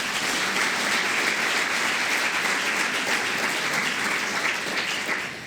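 Steady, dense applause from an audience at an education workers' appreciation event, loud and close, sustained throughout before easing slightly at the end.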